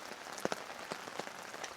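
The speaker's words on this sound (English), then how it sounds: "it's only if we can get a break in the rain" Steady rain patters on a campsite, with scattered louder drops striking a nearby surface at irregular intervals throughout.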